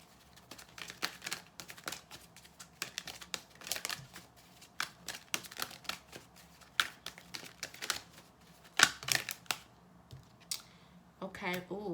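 Life lessons cards being handled and shuffled, a run of crisp, close papery riffles and snaps scattered across the whole stretch at varying loudness.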